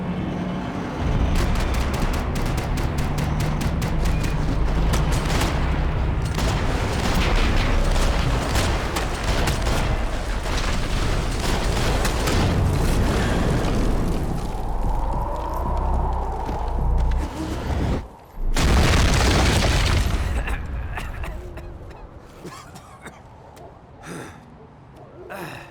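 Gunfight in the video game Max Payne 3, loud and nearly nonstop: rapid gunfire bursts and blasts pile up, a brief drop near the end, then another heavy burst before things thin out.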